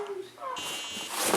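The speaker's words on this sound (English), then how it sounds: "sounds the alarm" A safety safe alarm built with a pressure sensor under cardboard goes off when the object is lifted, a bright steady electronic tone starting abruptly partway through, heard alongside background voices.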